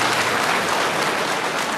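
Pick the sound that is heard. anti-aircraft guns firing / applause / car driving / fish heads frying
applause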